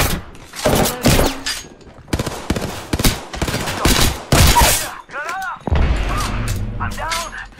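Hemlock burst assault rifle from Apex Legends, fired in repeated loud, sharp bursts separated by short gaps, with game announcer voice lines and other effects in the second half.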